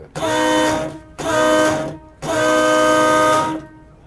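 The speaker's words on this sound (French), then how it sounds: "y compris la corne de brume et d'appel qui a un son" Three long, loud blasts from the original foghorn of the historic boat Aquabelle, each a deep steady tone with rich harmonics, separated by short silences; the last blast held longest.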